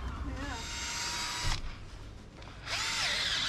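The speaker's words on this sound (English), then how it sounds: "Now try and drill through there." A power drill whines loudly while drilling through a sailboat rudder, cutting out briefly mid-clip before spinning up again, with voices talking faintly underneath.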